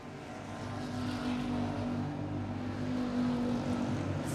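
Street stock race cars on a back straightaway during a heat race, a steady loud engine drone with a sustained humming tone that swells slightly as the pack passes, heard from a distance with no talk.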